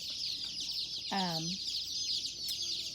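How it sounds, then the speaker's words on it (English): Chicks and hens cluck in a barn brooding space, boxes set under heat lamps, with one clear harmonic cluck standing out near the middle over a constant high-pitched chorus of peeping. "we have brought the chicks into the barn where we're planning to brood them"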